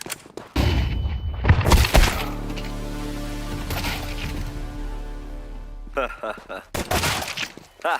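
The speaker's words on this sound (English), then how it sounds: "Throw in the flashbang" A flashbang grenade goes off in a Counter-Strike round, a sharp blast followed by a long steady ringing tone that lingers for several seconds before fading, with voices talking and shouting around it.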